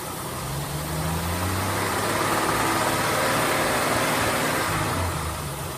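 An AMC Jeep engine idles loudly and steadily nearby, a dense continuous rumble that swells slightly mid-clip as a little throttle is given. The engine shows no oil pressure at idle. No one speaks over it.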